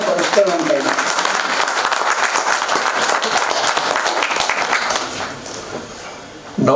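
An audience claps loudly and steadily at the opening of a stage play. The dense applause carries on for several seconds, then thins briefly near the end before a final burst.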